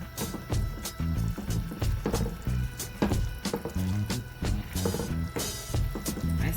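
Soy sauce being stirred into smothered pork chops with sweet peppers, giving wet squelching and slapping sounds in an uneven rhythm, close and fairly loud.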